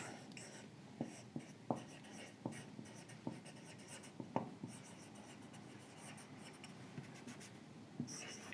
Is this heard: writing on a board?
yes